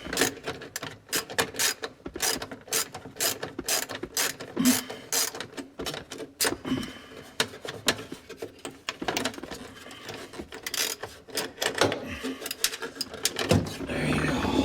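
A ratchet with a 5/8 socket working a fastener on a 1967 Mustang gauge cluster, close rapid bursts of clicking pawl teeth separated by short pauses, with handling clatter between the runs and no talk.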